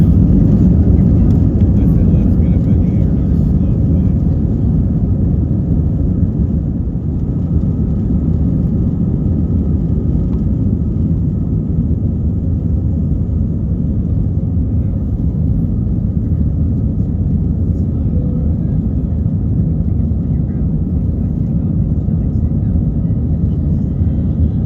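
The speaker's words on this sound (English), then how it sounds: "It's time for takeoff." A Spirit Airlines jet takes off from runway 2 left at Nashville, its engines a loud, steady roar over a dense low rumble that holds unbroken throughout the takeoff run.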